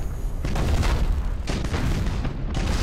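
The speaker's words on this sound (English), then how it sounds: "Fire all weapons!" Heavy warship weapons in Battlefleet Gothic: Armada fire in three booming volleys roughly a second apart, each a loud, rumbling blast with no voices.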